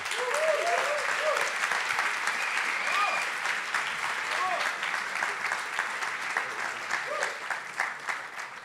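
Audience applause for the two startup founders coming on stage as closing keynote speakers at a conference, a dense, steady clapping from a large crowd with a few voices over it, fading slightly toward the end.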